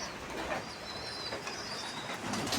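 Kalanka pigeons in a loft, a pair sitting on eggs, give faint low cooing over a soft steady background hum, with no talk.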